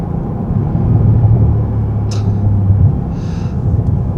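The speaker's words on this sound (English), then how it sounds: "I hope you guys can hear this incredible engine noise" Inside a 2025 Bentley Continental GT driving in sport mode, the engine produces a deep, steady rumble that fills the cabin throughout, with a couple of brief higher ticks over the top.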